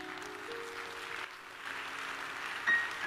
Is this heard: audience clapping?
yes